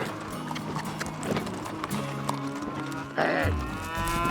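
Cattle low and moo during a cattle drive in a cowboy competition, loud and close against steady outdoor noise, with hoof clatter and a brief knock near the end.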